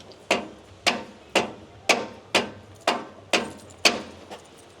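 A plastic hammer knocks on a socket during chassis rust work on a Ford Ranger, with nine sharp, evenly spaced blows each ringing briefly. They are close and loud, and nobody speaks.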